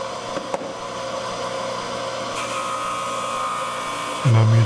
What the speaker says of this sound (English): I'm using a little 1/4-inch wheel to do the texturing on the scales with on the belt grinder.